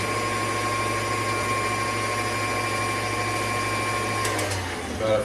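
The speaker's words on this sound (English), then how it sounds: "Let that whisk do its job." A stand mixer with the whisk attachment beats Oreo cheesecake batter in a bowl, a steady loud motor whir droning unbroken for several seconds before easing off at the end.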